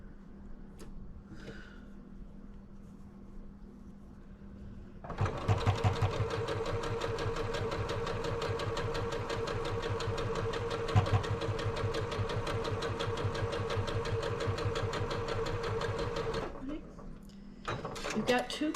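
A sewing machine stitches fabric for a coronation wall hanging in a steady, rapid mechanical run of about eleven seconds, close and fairly quiet, after a stretch of low talk and soft handling.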